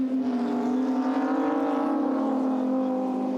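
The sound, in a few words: Group A touring race cars racing at Calder Park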